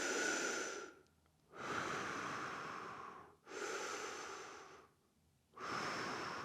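Deliberately exaggerated breathing during a slow side-to-side pelvic floor exercise: three long, loud airy breaths close to the mic, each lasting about a second and a half, separated by brief quiet pauses.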